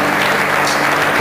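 Dense, loud audience applause at a pageant parade of candidates, a continuous wash of clapping from a crowd.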